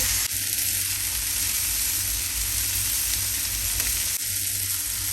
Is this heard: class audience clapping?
no